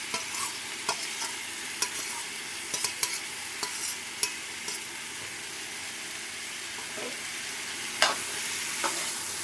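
Tomatoes and coriander are stirred and fried in a yogurt chicken curry: a steady close sizzle punctuated by sharp, irregular spatula clicks against the pan.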